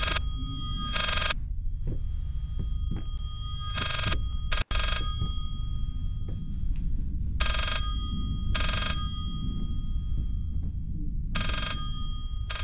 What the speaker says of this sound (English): That phone's about to give me a panic attack.